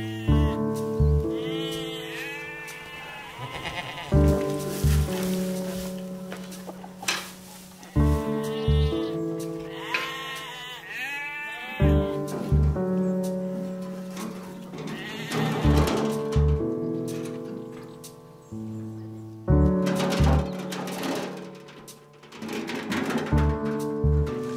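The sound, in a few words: goats bleating at feeding time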